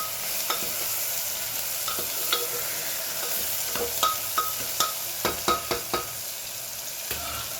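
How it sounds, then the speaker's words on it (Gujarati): Chopped bottle gourd stirred and mixed in a cooking pan with mustard seeds and cumin, a soft sizzle under repeated scraping clacks of a spoon against the pan, close and moderately loud. "અને સાથે સાથે દૂધી કટ કરી છે એને એડ કરી દેવાનું. સરસ મિક્સ કરી લઈએ."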